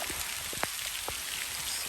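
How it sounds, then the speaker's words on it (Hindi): Heavy thunderstorm rain pours down over a river bed in Almora, a dense, continuous hiss broken by scattered close drips and patters. "ये हो रही है यहाँ की झमाझम बारिश"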